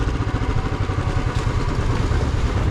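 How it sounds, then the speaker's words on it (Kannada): A Royal Enfield Bullet motorcycle engine runs with a low, throbbing, slightly uneven rumble, steady and fairly close, heard inside a temple gateway tower with no talk over it. "ಗೋಪುರದ ಒಳಗೆ ನಮ್ಮ ಬುಲೆಟ್ ಬೈಕ್."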